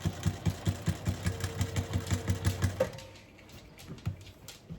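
A sewing machine stitches fabric onto an upcycled tote bag, a quick, even run of mechanical thumps for about three seconds. Then it goes quiet, with a few softer taps and one more short burst. No voices.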